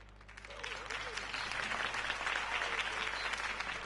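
Crowd applause after a campaign speech by Harvey Dent in the Batman Telltale video game, a dense, steady wash of clapping that swells in the first half second and holds loud throughout.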